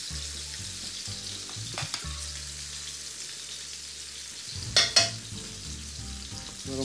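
Food sizzles in a hot pan with a steady, soft crackle. There are occasional stirring scrapes and a pair of sharper clinks partway through.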